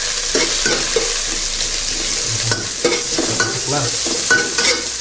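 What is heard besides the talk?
onion and garlic frying in a pan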